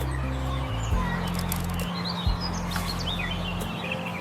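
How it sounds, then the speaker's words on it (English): Bird song, faint chirping tweets drifting over a steady low hum of background noise, several short high calls scattered through the moment. "The bird is singing happily."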